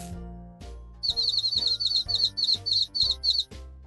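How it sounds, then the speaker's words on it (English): A baby bird chirps in quick repeated bursts, about ten high, tweeting calls in a steady rhythm, clear and close, over soft low tones at the start. "The baby bird is hungry."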